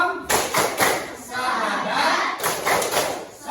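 A classroom group does a rhythmic clapping game, claps and thumping beats landing in quick clusters with pauses between, while voices chant and talk over them.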